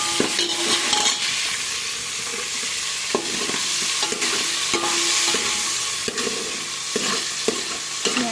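Asafoetida and chopped green chili frying in hot oil for a potato filling for bread pakoras, a loud continuous sizzle with occasional stirring clinks, no voices.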